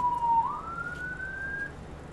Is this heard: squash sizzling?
no